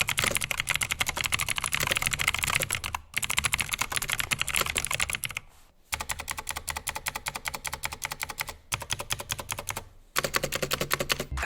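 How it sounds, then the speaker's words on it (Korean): Continuous rapid clicky typing on a full-size Razer BlackWidow V3 Pro keyboard with green clicky switches, close and crisp, with a few brief pauses between bursts. "듣기만 해도 시원해지는 타건음이죠."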